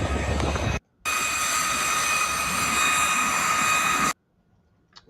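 Model L-39 jets, radio-controlled, streak past at an RC flying event as a loud, sustained turbine roar with a high whine. It cuts in abruptly, holds steady for about three seconds, then falls silent.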